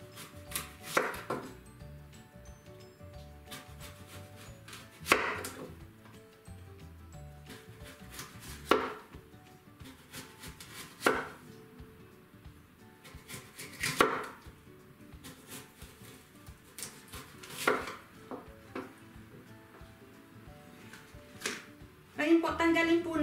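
A knife chops through an apple on a cutting board, giving sharp distinct thuds spaced a few seconds apart, with some quicker cuts in between, under quiet talk.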